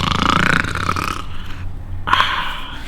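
A person imitates loud snoring, making a long raspy rumbling snore, a pause, then a second snore starting up, close and loud.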